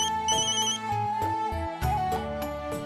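A melodic electronic phone ringtone plays, a repeating tonal tune with steady notes, fairly loud and close, with no talking over it.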